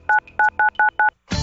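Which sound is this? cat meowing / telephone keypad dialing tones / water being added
telephone keypad dialing tones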